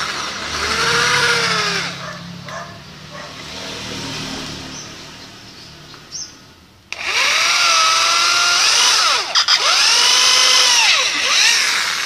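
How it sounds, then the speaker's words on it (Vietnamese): A power drill bores a hole in wood while preparing a mount for a monopodial orchid, its motor whining loudly in two long bursts with rising and falling pitch, separated by a short pause near the middle. "Rồi giờ mình khoan lỗ đây ha."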